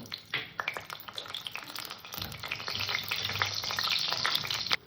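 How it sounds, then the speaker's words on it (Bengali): Bori lentil dumplings fry in a generous pool of hot oil, a steady crackling sizzle broken by sharp spatters and pops, growing denser and louder midway and holding close and busy until an abrupt stop. "চার পাঁচটা বড়ি ভেজে তুলে নেব"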